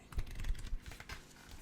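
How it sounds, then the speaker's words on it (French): Paper pages turning nearby, a soft rustle and flap of sheets, brief and quiet with no voices. "Le page turning."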